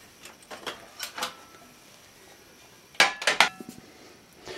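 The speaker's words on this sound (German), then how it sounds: "Hier löst man die Platte." Metal grill plates of a Tefal OptiGrill being unlatched and lifted out, giving a few light clinks and then a quick cluster of sharp metallic clatters, close and fairly loud against quiet room background.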